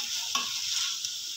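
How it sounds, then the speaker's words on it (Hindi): Boiled chicken pieces frying in a pan give a faint, steady hiss and sizzle, with a couple of soft stirring scrapes and no talking. "इसको अच्छे से फ्राई कर लेंगे।"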